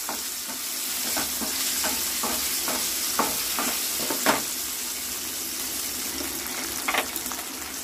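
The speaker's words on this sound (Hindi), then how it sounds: "फ्रेंड्स, हमने पनीर भून लिया।" Cubes of paneer sautéing in a pan with hing, a continuous close sizzle broken by several sharp scraping stirs and a couple of louder clatters from the spatula.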